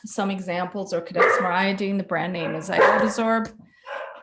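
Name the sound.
dog barking in the background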